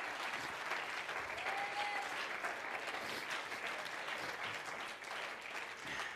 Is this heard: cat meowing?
no